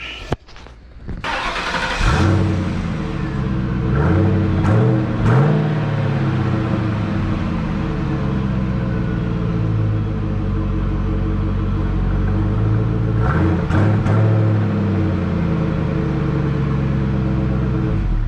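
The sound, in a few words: car engine starting and running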